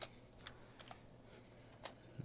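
Faint, sparse keystrokes on a computer keyboard, a few isolated clicks spread across a quiet stretch, soft and close with no voices.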